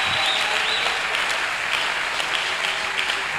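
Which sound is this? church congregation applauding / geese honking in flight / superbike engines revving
church congregation applauding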